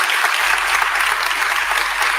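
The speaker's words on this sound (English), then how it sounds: "Give Harry a round of applause," Audience applauds at a mayor's public address in Philadelphia: dense, loud clapping from a crowd that holds steady for about two seconds and then cuts off abruptly.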